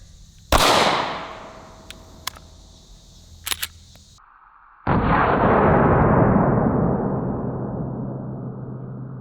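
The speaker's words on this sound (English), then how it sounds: "Shooting this one out of the Smith & Wesson Shield 45." A single sharp, loud .45 ACP gunshot from a Smith & Wesson Shield 45 pistol cracks outdoors, followed by a few small clicks and then a sustained rushing noise.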